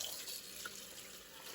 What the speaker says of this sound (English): So I'm now rinsing it under cool water.